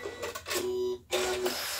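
A sewing machine stitches a bag seam: two short bursts of rapid mechanical whirring and needle chatter separated by a brief pause, close and clear.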